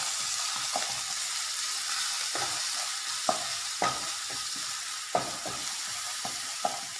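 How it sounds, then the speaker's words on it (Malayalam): Crushed ginger, garlic and green chilli fry in hot oil with a bright, steady sizzle, punctuated by several sharp spatula taps and stirring scrapes against the pan. "ആ ജിഞ്ചർ ഗാർലിക് പേസ്റ്റ് അതായത് പച്ചമുളകും വെളുത്തുള്ളിയും ഇഞ്ചിയും എല്ലാം കൂടെ നമ്മൾ ചതച്ച് വെച്ചിരിക്കുന്നത് ആദ്യം അതിനകത്തിട്ടൊന്ന്"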